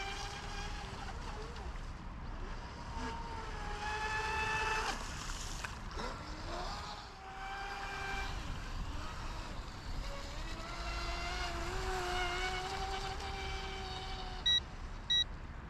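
The motor of a WLtoys WL916 RC boat runs on water, a steady high electric whine that rises and falls in pitch with speed, heard from a distance while someone talks throughout.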